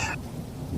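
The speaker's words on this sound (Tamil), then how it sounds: "ஐயோ, நிறையா மழை வேற பெய்யுது வேற." Heavy rain pours down steadily, a dense, even wash of noise at moderate loudness. A brief higher tone sounds at the start.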